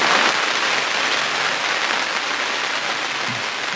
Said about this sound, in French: Des trombes d'eau.